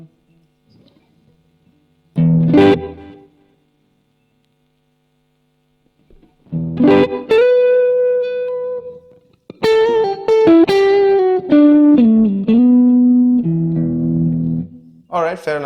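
Electric guitar runs through a Boss GP-10 with a layered effect, sounding as separate plucked notes and short sustained phrases with gaps of silence, close and clean-toned.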